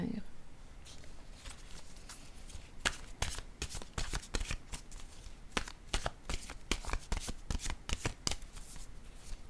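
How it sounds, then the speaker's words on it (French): Oracle cards being shuffled by hand: quick riffling bursts and flutters, close and crisp, repeating in uneven runs, with occasional talking in the background. "Je vais piger maintenant une carte de mon oracle"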